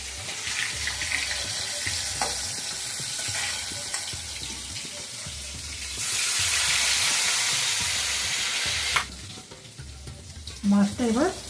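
Koi fish frying in hot mustard oil in a kadai: a steady broadband sizzle that swells louder midway as the fish crackles, with faint clinks and a brief voice-like sound near the end.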